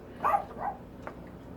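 A household dog gives two quick barks close by, then a fainter short yip, in a quiet kitchen.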